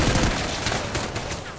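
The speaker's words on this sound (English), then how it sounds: "You can only hear the sound effects of the gunfire" Video game gunfire sound effects from an air strafing run, a dense, loud burst of rapid shots rattling continuously for a moment, with no aircraft engine heard.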